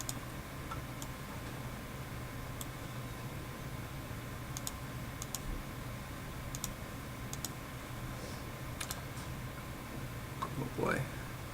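Computer mouse clicks while working in a CAD program, several faint, sharp, irregularly spaced clicks over a steady background hum, with a brief squeaky sound near the end.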